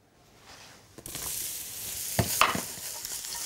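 Sliced cep mushroom caps sautéing in a very hot pan, a steady close sizzle that swells after the first second, with sharper clatters of the pan being tossed or stirred.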